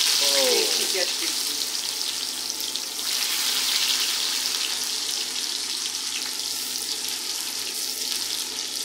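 Cumin seeds fry in a pan with a continuous soft sizzle and crackle, steady and close, with a brief clattering stir at the start.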